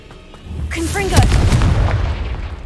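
A Confringo fire spell explodes in the Hogwarts Legacy video game, a deep rumbling boom rising partway through and fading out, overlapped by a brief spoken voice.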